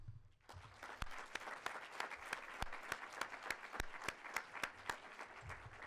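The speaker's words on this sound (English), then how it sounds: "we have given a round of applause to the panel" Conference audience applauding a panel at the Play the Game 2013 sports conference. The applause is moderate and steady, with sharp individual claps standing out and no talking over it.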